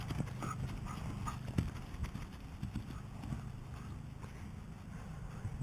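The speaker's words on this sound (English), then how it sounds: "There's my lame horse." A lame horse walks nearby, hooves clip-clopping in an irregular, uneven rhythm over a steady outdoor background with light wind.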